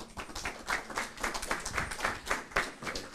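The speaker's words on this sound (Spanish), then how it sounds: "Recibamos con un fuerte aplauso" An audience at a Peruvian forum on social movements and regional governments claps to welcome a speaker to the stage, a dense, lively patter of many hands with uneven surges, steady throughout and without speech.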